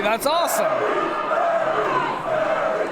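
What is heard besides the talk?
wrestling crowd chanting for Kerry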